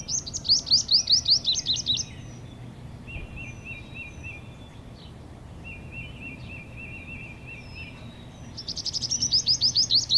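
A sunbird gives bright, rapid trilling chirp bursts at the start and end, with thinner repeated tweets between them, close and clear over quiet background.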